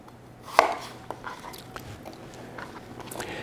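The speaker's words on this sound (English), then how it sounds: "This one, I'm going to cut this in half, and then in half again." A knife chops through an apple on a cutting board, with one sharp, clear cut followed by a few faint knocks in a quiet kitchen.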